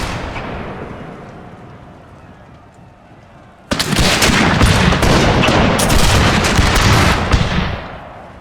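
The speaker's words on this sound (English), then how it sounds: "Prepare to have the cavalry fire on the enemy" Cavalry firing guns at the enemy in the Total War 30 Years War battle, with a faint distant rumble abruptly giving way to a loud dense crackling volley of musket shots that continues for several seconds.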